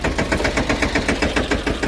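Tractor engine running at a steady idle, a rapid rhythmic thumping chug that is loud and close, alone without voices.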